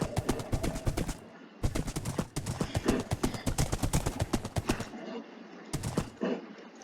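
Horse hooves clip-clop in the Minecraft video game, producing a steady, fast clatter of close, crisp steps that pauses briefly and then resumes.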